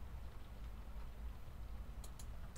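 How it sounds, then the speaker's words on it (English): Heavy rain pouring down outside, a dense, steady hiss with a low rumble underneath and a couple of faint ticks near the end, with no voices. "It is bucketing down here."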